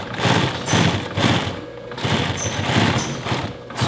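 An industrial sewing machine stitches a cuff onto a work glove, running in rapid bursts of whirring, rattling stitching with short pauses between each pass, close and fairly loud.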